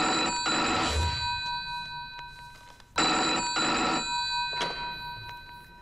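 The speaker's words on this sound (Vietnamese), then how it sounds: "Nhưng không được bao lâu, tôi liền nhận được điện thoại của Na Thành Vũ." A telephone rings in an action film scene, two bright electronic ring bursts with a brief gap between them, loud and alone with no talking.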